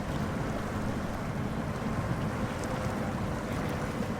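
A telehandler pushing through deep water in the truck-driving game SnowRunner, a dense, continuous churning wash of water and engine noise at steady loudness with no speech.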